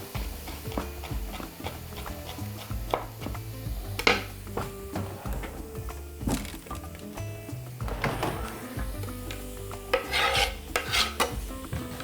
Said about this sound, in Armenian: Իսկ կծու չիլի պղպեղը կկտրատեմ օղակների։